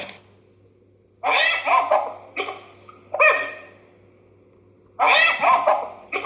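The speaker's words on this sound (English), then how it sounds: "Let's see how hyenas makes a sound." A hyena calls in three separate bursts of loud, rising and falling yelping cries, with short gaps of near silence between them and a steady low hum underneath.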